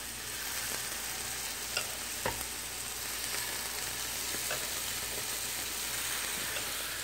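Sausages frying in a pan for breakfast give a steady, close crackling sizzle throughout, with a few brief clinks and scrapes of a utensil, and no talk.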